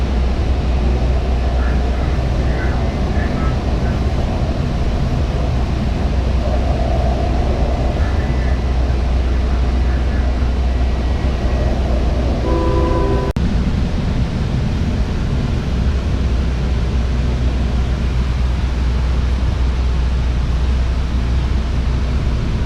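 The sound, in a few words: commuter train riding into station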